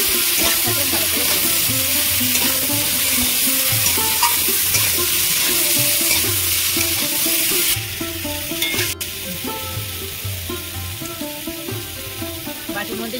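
Vegetables sizzle and hiss steadily in a hot wok for a fish curry with potato, plantain and drumsticks, with repeated scraping stirs of a spatula throughout, close and continuous.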